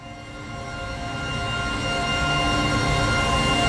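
A Dreamstate synth patch played in the Unify instrument host, a dense sustained pad that swells gently and holds a thick, steady wash with no voices.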